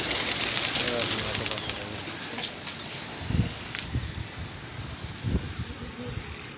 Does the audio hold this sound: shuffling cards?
no